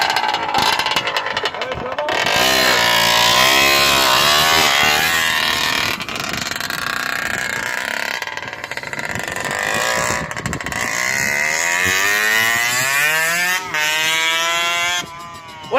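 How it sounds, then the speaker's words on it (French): A motorcycle with a dislodged exhaust pipe revs loudly up close, its engine note rising and falling in repeated throttle sweeps, harsh and raspy, with people talking over it. "là vous allez entendre le bruit, genre le pot il est déboîté là"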